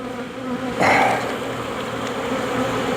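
Honey bees buzz steadily around a horizontal hive during a pre-winter inspection, a continuous close droning hum with a brief louder swell as frames are worked.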